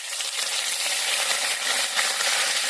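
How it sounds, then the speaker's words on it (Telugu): Cumin seeds and dried red chillies frying in hot oil with mustard seeds, giving a loud, steady, close hiss and crackle that runs without a break; no talking. "ఆవాలు వేగిన తర్వాత జీలకర్ర, ఎండుమిర్చి వేసి బాగా కలపాలి"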